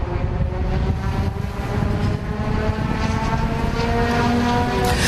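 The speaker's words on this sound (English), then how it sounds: "Someone's car sounds like it's having trouble going at the moment." A race car engine struggling during a championship finals race broadcast, heard as a continuous loud droning roar with wavering tones and steady rumble, no voices over it.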